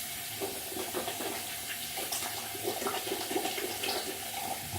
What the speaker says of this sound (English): just rinsing my hands here